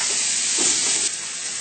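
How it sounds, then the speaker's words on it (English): Steaks searing on a hot grill give off a steady, close broadband sizzle, swelling briefly as the meat is flipped and then settling back to a constant hiss, with no talking. "the steaks, they're starting to get brown around the edges, so I'm going to go ahead and flip these on the other side"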